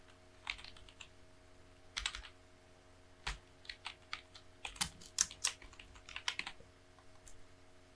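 Typing on a computer keyboard while entering text in Photoshop, with irregular close keystrokes arriving singly and in quick clusters over a faint steady electrical hum.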